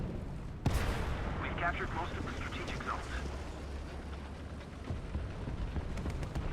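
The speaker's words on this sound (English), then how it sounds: "Get a bit of artillery going" Artillery fire in the War Thunder tank game, a heavy blast near the start followed by a rumbling low roll and scattered distant crackles beneath a faint background drone.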